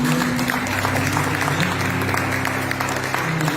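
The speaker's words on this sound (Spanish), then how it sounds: "Dale por las palmas al Señor." A church congregation claps their hands together in a dense, loud, steady round of applause that fills the room without a break.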